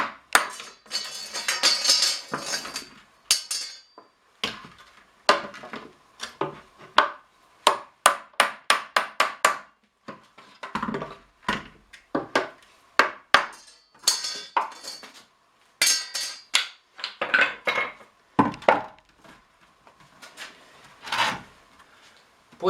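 Iron hoops being hammered off an oak barrel, a series of sharp metallic knocks and clanks in irregular bursts, some rapid runs of blows, close and clear with short pauses between.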